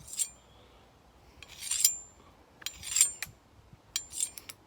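A knife being sharpened on a carbide plate sharpener at a 45-degree angle: several short scraping rasps in separate bursts, near and fairly quiet, with no talk.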